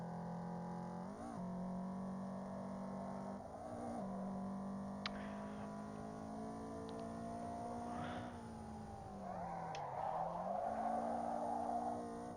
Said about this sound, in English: Little drifts, little drifts.